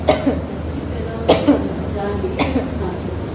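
Three sharp coughs come at roughly even intervals, close by, with faint background noise between them.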